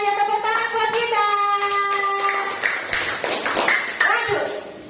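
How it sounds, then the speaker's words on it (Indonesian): A group claps hands together in a classroom, the dense patter rising after several seconds of voices and lasting to the end, with talk running over and under it. "tepuk tangan buat kita"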